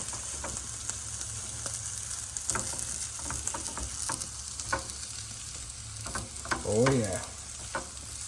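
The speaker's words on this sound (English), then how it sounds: "Go ahead and move these potatoes around a little bit. They're getting all fried up nice." Potatoes and bacon fry in a pan for a burrito while being stirred, a close steady sizzle with scraping and clinking strokes throughout and a brief louder scrape near the end; a voice briefly murmurs once.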